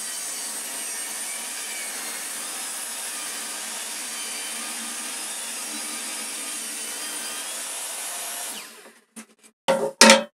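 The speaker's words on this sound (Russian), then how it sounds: "Теперь уже непосредственно пилю." Hand saw cutting a glued wooden furniture panel, a continuous tight rasping stroke noise that runs steadily for most of the clip, then stops and gives way to a few short knocks and clatters.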